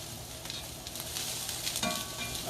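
Red cabbage caramelizing in a pan is stirred, a steady close sizzle with soft scraping and shuffling under it, no talking.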